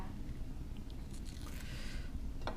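Someone bites into a raw eggplant and chews a mouthful of rice by hand, giving soft close crunches and squishy chewing with a sharper bite near the end, quiet and without talk.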